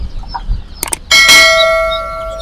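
Khaki Campbell ducklings and young chicks at a wholesale poultry market, giving a few quick high chirps and cheeps before a sustained ringing tone that fades slowly.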